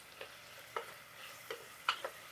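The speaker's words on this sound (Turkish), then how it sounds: "Şöyle bir kavuruyorum şimdi." Cut carrots are sautéed in a pan as part of a cinnamon bean dish, with a quiet, faint sizzle and a few soft stirring clinks spaced across the moment.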